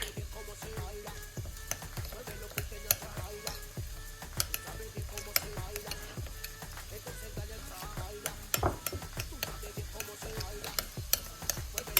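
Onions cook gently in a pot with a soft continuous sizzle, punctuated by frequent close clicks and scrapes from stirring, for a slow-cooked chocolate chicken stew; no one speaks.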